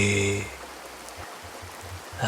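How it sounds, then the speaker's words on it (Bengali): Steady rain pours down as a sound effect in a Bengali horror story reading, a broad continuous hiss that rises after a brief tonal opening and holds at an even level to the end. "তখন ঝুপঝুপ ঝুপঝুপ করে বৃষ্টি পড়ছে"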